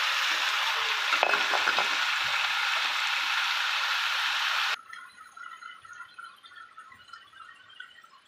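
Chicken and potatoes with salt, turmeric, chilli powder and other spices fry in a pan with a loud, steady sizzle that cuts off sharply partway through, leaving a softer crackle with scattered pops.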